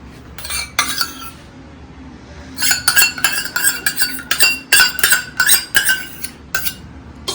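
A spoon clinks repeatedly against a bowl while curd is mixed into warm milk in a home kitchen, sharp bright taps coming in quick irregular bursts with short pauses between.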